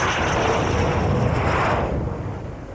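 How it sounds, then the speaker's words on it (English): A Panavia Tornado military jet flies past at the Royal International Air Tattoo air show, a loud, close engine roar that swells and then fades as the aircraft moves away, with no talk over it. "And here the Tornado, a much larger aircraft than the Jaguar"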